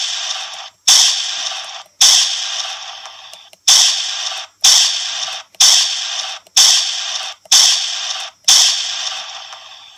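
Electronic E-11 blaster prop playing a K98 Mauser rifle shot effect, firing eight loud, evenly paced cracks over about ten seconds, each with a brief ringing decay, close and alone with no voices.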